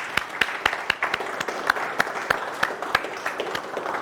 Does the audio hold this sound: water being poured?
no